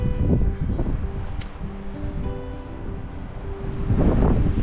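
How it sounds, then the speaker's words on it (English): Wind buffets the microphone beside a mountain lake, rough low gusts that swell at the start and again toward the end, steady rushing between. "Of course, the wind has decided it wants to blow now."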